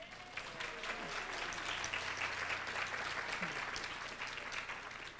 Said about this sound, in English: That wasn't meant to be an applause line.